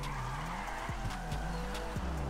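Car tires skidding and squealing while drifting in GTA Online, a sustained tire screech with several sharp pitch swoops over a loud engine drone, close and without talk.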